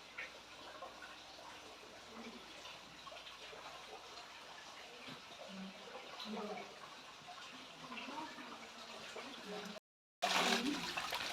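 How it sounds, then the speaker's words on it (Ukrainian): Small man-made water cascades and trickling streams in a tropical-style garden house give a soft, continuous splashing and gurgling, moderately faint, with a brief cut near the end followed by a louder burst of water. "Сюди дзюркіт струмочків ось такі каскадики зроблені."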